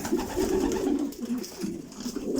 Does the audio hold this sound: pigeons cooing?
yes